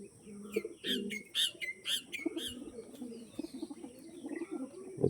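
An Andhra pigeon coos close by in soft repeated phrases, with sharper chirps from other birds scattered through the first half and low background murmur.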